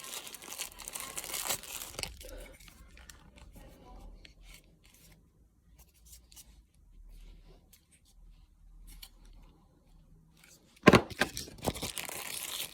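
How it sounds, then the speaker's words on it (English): Packaging being unwrapped from a USB-C charging plug: soft crinkling, rubbing and tearing of wrapping material, mostly quiet and close, with a sharp louder rustle near the end. "Now just unwrap it from its packaging."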